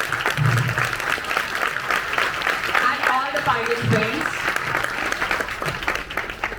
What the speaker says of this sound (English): Let's just give a big round of applause for all of the winners